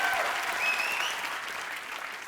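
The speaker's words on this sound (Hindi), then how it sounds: "जोरदार तालियां यार, जोरदार." Studio audience applause fills a comedy talk-show set, with a dense, sustained wash of clapping from a large crowd. It stays loud throughout and slowly eases off toward the end.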